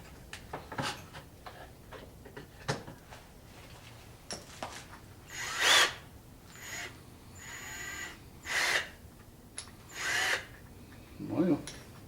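A power drill with a 3/8 inch bit in a shop, running in several short loud bursts separated by pauses and small ticking handling sounds, with no voices.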